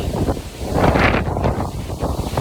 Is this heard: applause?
no